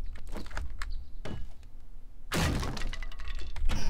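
Wrenching apart a piece of loot in 7 Days to Die: a few sharp knocks and thunks, then a loud burst of cracking and clattering as the object breaks apart, followed by rattling debris.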